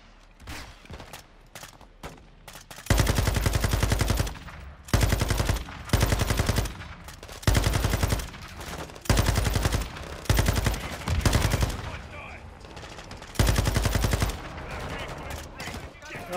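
Sustained automatic gunfire in Call of Duty Modern Warfare 2, loud machine-gun bursts of a second or two repeating in a steady on-off pattern, close and dominant, with quieter pauses between.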